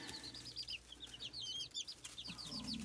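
Several young Easter Egger chicks in a brooder give repeated high, thin peeps and cheeps. The calls are close and fairly quiet, with soft rustling and faint low background noise. No one speaks.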